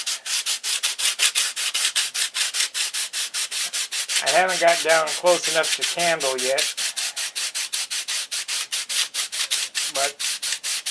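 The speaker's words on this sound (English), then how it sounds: "Heap of sanding." Rhythmic back-and-forth hand sanding on a repaired wood fuse layout piece, steady scraping strokes close to the mic throughout, with someone talking briefly in the middle.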